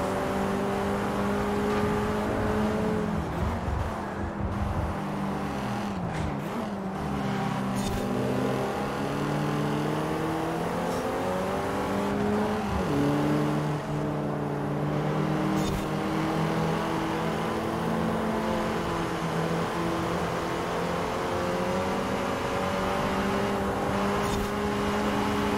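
A Forza Horizon 4 car driven with a Logitech G923 wheel, its engine droning steadily and rising and falling in pitch through revs and gear changes, loud and continuous with almost no talk.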